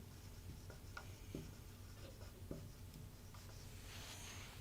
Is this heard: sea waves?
no